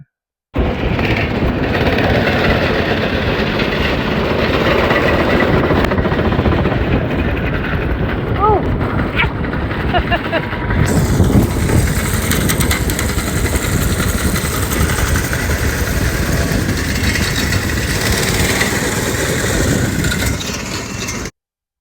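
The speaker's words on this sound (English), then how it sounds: "playing around with the mini bikes, trying to get them all done. Took those on a spin." Small vintage mini bike engines run and rev loudly close by during a test ride, a steady buzzing drone throughout with shifts in pitch as the throttle changes.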